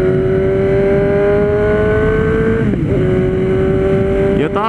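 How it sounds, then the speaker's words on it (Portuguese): A Suzuki GSX-S750 motorcycle engine runs loud and close with a steady high-pitched tone, dropping briefly before being revved up again, with a sharp rise at the end. "Pronta para dar umas aceleradas nervosas."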